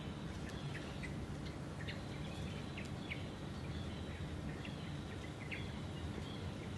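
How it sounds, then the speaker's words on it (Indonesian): Small birds chirp in the morning, scattered faint tweets spread through the clip over a steady hiss of outdoor background noise, with no talking. "burung pagi-pagi pada keluar semua"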